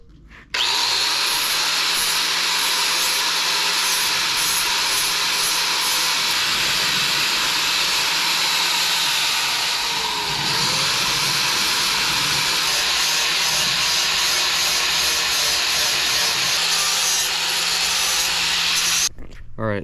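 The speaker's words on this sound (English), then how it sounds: "we finished up grinding the stainless down" A power grinder works down stainless steel TIG welds in one long continuous pass, a loud close whine and rasp that holds steady with slight shifts in pitch, starting and stopping abruptly, with no talking.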